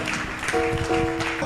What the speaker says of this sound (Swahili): Makofi kwa Yesu Kristo.